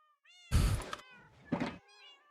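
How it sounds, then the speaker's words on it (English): Cats in Minecraft meow twice, each a loud, close, drawn-out game meow, with brief quiet tonal trails between and after them. "I already bred the cats, that's right."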